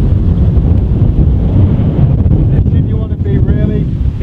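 Strong downwind on a golf course buffets the microphone with a constant loud, low rumble and roar that barely lets up for the whole stretch.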